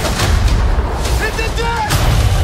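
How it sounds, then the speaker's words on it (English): Cannon fire from a One Piece series trailer, loud heavy booms with a couple of blasts and a tail of rumbling debris, under score and effects. "Cannon!"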